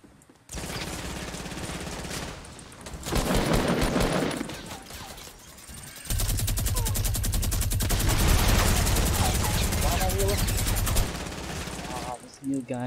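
Gunfire in the Fortnite battle royale video game comes in long dense bursts of rapid automatic shots, loud and sustained with short pauses between volleys, while players talk over the game sounds.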